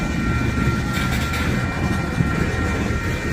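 A Union Pacific freight train rolls past in St Paul, producing a steady, loud rumble that holds for the whole stretch with a constant wash of rail noise and no voices.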